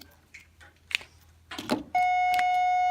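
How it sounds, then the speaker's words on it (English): An electronic school bell starts during a high school math class, a loud, steady tone that comes on abruptly and holds, after faint classroom noises. "There's the bell."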